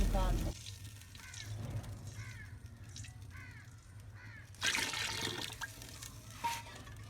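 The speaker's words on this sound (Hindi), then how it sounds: "हम इसमें 2 कटोरे जो हैं वो पानी शामिल कर रहे हैं।" Water is poured into a pot of rice while cooking dal chawal, a brief gushing splash midway through a quiet kitchen scene, with crows cawing repeatedly in the background.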